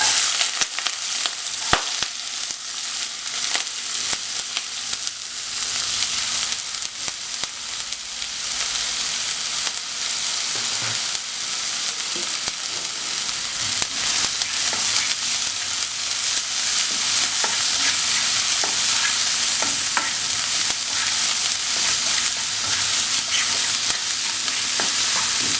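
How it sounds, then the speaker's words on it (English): Onions sizzle in hot oil in a pan, a steady loud bright frying hiss that runs the whole time, with occasional stirring scrapes and small pops and no talking. "So in a pan I have added some oil. When the oil get heated, I am adding the onions."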